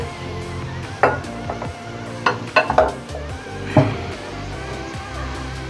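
Pieces of mutton are dropped into a hot handi for gosht, giving a steady low sizzle broken by a few close, sharp clatters and scrapes of metal against the pot.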